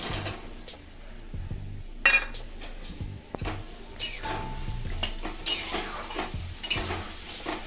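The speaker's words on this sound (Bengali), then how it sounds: "এবার ভেজে রাখা আলুগুলো আমি এর মধ্যে দিয়ে দেব।" Fried potato pieces for a green-banana kofta curry tumble into a pan over ginger-chilli paste, then get stirred with a spoon, bringing clinks and scrapes over a steady sizzle, loud and close with no talking.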